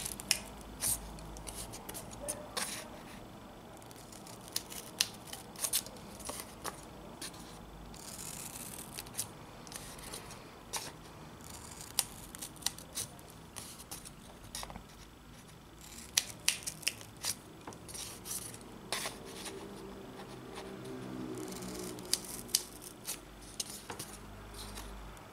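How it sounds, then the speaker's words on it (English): Scissors snip a series of slits around a cardboard circle for a kumihimo disk, giving many crisp, close cuts at an irregular pace over a quiet room with no talking. "we want to cut up until the center of the line right over here, and want to do that on every single line"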